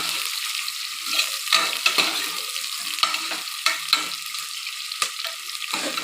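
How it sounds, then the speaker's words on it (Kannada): Onions frying in a pan until brown, a steady crackling sizzle with occasional sharper pops and stirring scrapes, close and fairly loud with no voices. "ಸ್ವಲ್ಪ ಈರುಳ್ಳಿನ ಬ್ರೌನ್ ಆಗೋವರೆಗೂ ಬೇಯಿಸ್ಕೊಳ್ಳೋಣ"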